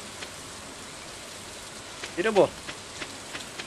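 Steady, soft rainfall hisses throughout in the Stardew Valley video game, with a brief spoken phrase in the middle.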